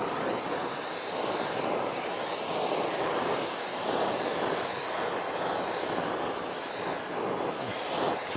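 A worn brake shoe being heated to burn off its old lining gives a loud, steady roaring hiss like a blowtorch flame, continuous and close throughout with no talking.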